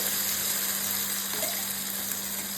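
Ground masala paste sizzles in hot oil in a pan for a brinjal kuzhambu, a steady close frying hiss that runs without a break for the whole stretch.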